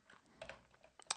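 Keystrokes on a computer keyboard as a command is entered, a short run of light clicks and taps with a sharper cluster near the end, close and quiet with no talk.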